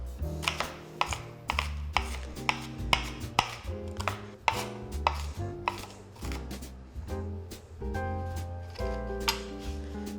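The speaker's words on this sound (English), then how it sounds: "I'm gonna chop up a little bit of celery. You wanna chop it up in kind of a small, fine dice." Celery diced finely with a knife on a cutting board, a quick run of crisp, close chops in an uneven but steady rhythm for about ten seconds, alone without speech.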